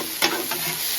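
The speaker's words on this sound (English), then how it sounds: "Get our butter cooking in here." Butter and steak sizzle on a Blackstone griddle with a steady, close frying hiss, and a spatula scrapes and stirs briefly over it. Nobody speaks.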